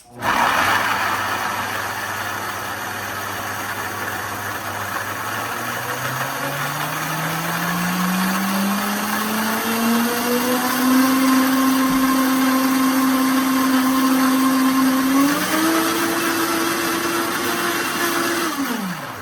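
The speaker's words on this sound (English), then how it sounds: "So now I'm gonna blend it and we'll try it and see if we need to add anything else." A Vitamix blender whirs through cilantro jalapeño hummus, its motor rising steadily in pitch as the mixture smooths out, then jumping to a higher speed near the end, loud and continuous without speech.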